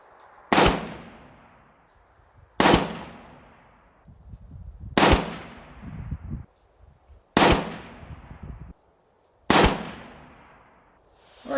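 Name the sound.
PSA 6.5 Grendel rifle firing reloads at range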